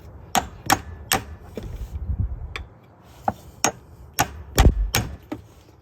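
Light hammer taps strike a part on a 2010 Ram 1500 truck, a dozen or so sharp, close metallic knocks spaced irregularly, some in quick pairs, with a soft scraping shuffle between them and no talking.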